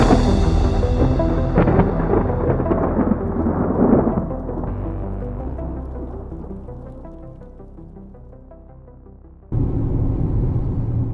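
A thunderstorm rumbles with heavy, rolling thunder that swells early and then slowly fades, ending in an abrupt burst of broadband storm noise, with no voices.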